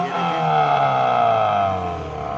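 A tuned 2009 Toyota Corolla GLI engine runs steadily at close range, producing an even, smooth hum with a stable droning tone and no breaks, heard on its own.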